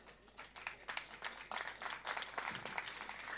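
Applause for athletes at the opening ceremony of an annual sports tournament in Outjo, heard as a steady spatter of clapping from a crowd, moderately distant and continuous throughout.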